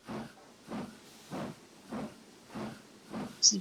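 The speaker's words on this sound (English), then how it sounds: "It applies its steam brake when it needs to" A steam locomotive in a train simulator game gives about six regular, rhythmic hissing puffs of escaping steam, close and steady, with no talk.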